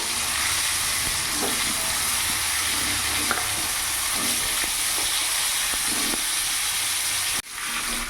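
Pointed gourd (potol) fries in hot refined oil in a kadai, giving a loud, dense, continuous hiss with faint stirring ticks, cutting off abruptly near the end.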